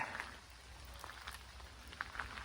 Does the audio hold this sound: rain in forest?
yes